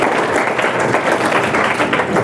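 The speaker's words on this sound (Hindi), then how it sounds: "ताली बजाओ एक बार" Delhi government school students clap together in a classroom session on entrepreneurship, making a dense, steady, fairly loud burst of applause that runs evenly for a couple of seconds with no talk over it.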